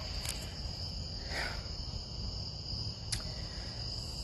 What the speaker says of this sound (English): Yep, the crickets. The crickets.